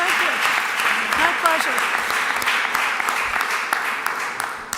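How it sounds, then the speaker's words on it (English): A city council meeting audience in Springfield applauds Counselor Walsh with steady, dense clapping that stays loud throughout, with some faint voices mixed in. "So let's clap it up for Counselor Walsh."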